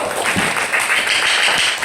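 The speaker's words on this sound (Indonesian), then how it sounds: "tepuk tangan untuk kelompok 1" Classroom applause for a student group after their presentation on magnets: a dense, steady wash of many hands clapping at once, close and fairly loud, with no clear speech.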